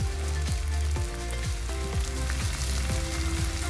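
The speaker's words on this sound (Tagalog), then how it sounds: "halu-haluin natin para maluto ang patatas" Potatoes sizzle in hot oil in a pan for corned beef, a close, steady frying crackle with a faint repeating rhythmic sweep underneath.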